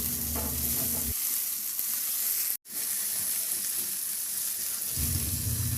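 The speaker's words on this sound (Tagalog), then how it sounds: "Ihalo lang din hanggang sa maluto yung kamatis." Onion and tomato sauté in a pan with a steady, close sizzle, louder at the start and end, dipping in the middle around a brief silent gap, with no one speaking.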